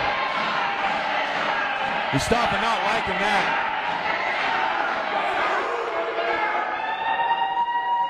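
Wrestling crowd cheering for hometown hero JR, a loud continuous roar with shouts and a few slams from the ring, while a commentator talks over it.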